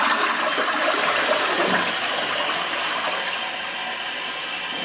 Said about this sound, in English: probably need to flush this twice.